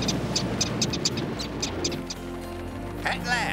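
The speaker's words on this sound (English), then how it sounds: "Are those birds Arctic terns?" Arctic terns call in a cartoon scene, giving a series of short, rapid chirps in a quick rhythm over background sound, ending with a rising squawk.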